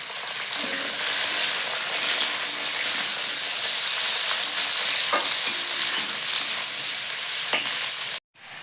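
Chana dal curry fries in a pan with slit green chilies and tomatoes, giving a steady, dense sizzle with occasional stirring scrapes, close and even, with no talking and a brief cut near the end.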